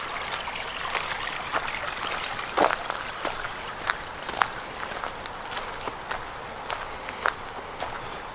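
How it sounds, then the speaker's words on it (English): Gentle water trickling steadily in a small winter stream among hemlocks and pines, with scattered crunchy footsteps on a trail throughout. "A little water flowing."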